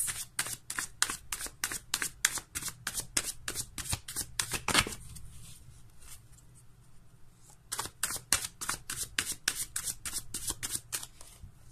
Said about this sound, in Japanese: じゃあこちらもね、カードをシャッフルしていきます。